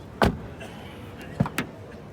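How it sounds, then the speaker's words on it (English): Doors of a 2025 Citroen C3 facelift shut in quick succession, a solid thud first, then after a pause two more close together, moderately loud over a quiet background with no talking. "Let me close the doors."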